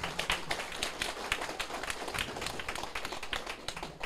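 A crowd at a closing ceremony for a senior advisory class applauds steadily and fairly loudly, dense overlapping claps running the whole stretch.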